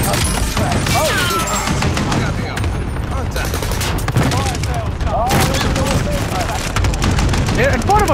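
Dense, loud video game gunfire rattles in continuous bursts of rapid automatic shots mixed with heavier booms, with players' voices shouting over the barrage.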